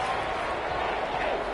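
Steady, dense stadium crowd roar in a Broncos-at-Chargers NFL football video game, a continuous broadband wash of home fans pressing on the offensive line, loud and unbroken with no voices standing out.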